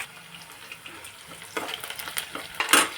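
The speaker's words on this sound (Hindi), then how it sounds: "डाल दिया है इसमें मैंने प्याज, अच्छी तरह से इसको भून लेंगे" Onions being fried in a pan give a faint sizzle that swells in the second half, with a few soft stirring scrapes and a brief louder splash near the end.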